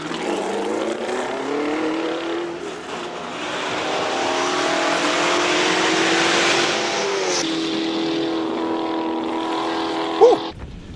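A Ford Mustang race car roars past on a mountain hillclimb, its engine swelling loud and steady as it approaches and passes, then easing off into a lower drone before cutting out abruptly.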